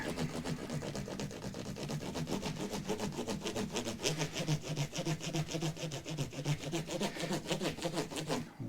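Rapid back-and-forth rasping of 12,000-grit abrasive on a Harley Benton CST 24 electric guitar, a steady close scrubbing rhythm that runs without pause and without talk.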